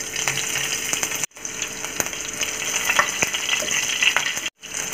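Cumin seeds and chopped green chillies frying in a tablespoon of oil in a pan for bhindi fry, a dense, continuous close sizzle with two brief cutoffs and scattered crackles, no talking.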